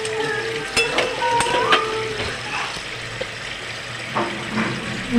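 A chhana curry with salt and garam masala powder being stirred in a hot pan, with a moist bubbling sizzle and repeated spoon scrapes and knocks, moderately loud and close, with no voices.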